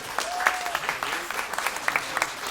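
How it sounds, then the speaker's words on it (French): Audience members at a product talk applaud the speakers with brisk, moderately loud clapping throughout, a voice speaking faintly over the beginning. "On peut applaudir nos intervenants,"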